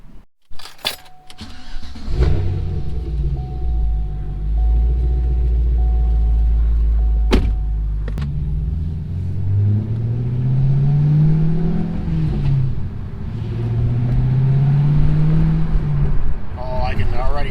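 A supercharged car engine cranks, catches and settles into a deep, loud idle, then revs up and down in several rising sweeps, recorded close from inside with the windows down.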